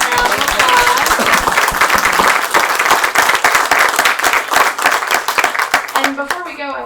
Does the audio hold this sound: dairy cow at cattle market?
no